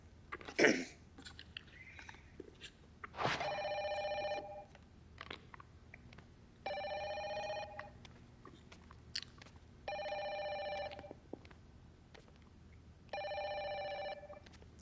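Telephone ringing in the horror video game Project Zero: Maiden of Black Water, heard as four evenly spaced electronic ring bursts over a quiet room ambience, preceded by a brief knock and a creak.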